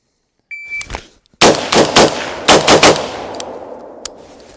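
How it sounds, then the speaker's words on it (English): Rifle shots crack loudly and close by at outdoor targets: a single shot, then a rapid string of about five shots, followed by a faint ring and a small late pop. "It just shoots so smooth. Like there's like barely any recoil. And this trigger rips."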